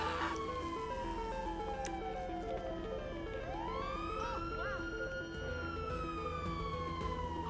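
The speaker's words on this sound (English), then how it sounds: "I can hear the sirens from here" Police sirens wail steadily in GTA Online, a rising and falling electronic tone that rings out loud and continuous throughout, layered over a busy game soundscape with background music.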